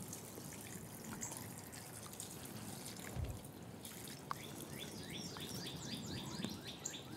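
Water trickling and dripping from kitchen utensils onto a freshly planted pesto plant, a faint, steady pour with scattered drips, heard alone with no voices.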